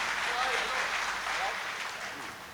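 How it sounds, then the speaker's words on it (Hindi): Audience clapping at a live comedy or poetry performance, a dense wash of applause that stays fairly even and fades slightly toward the end. "एक बार तालियां मिलके बजाइए जरा"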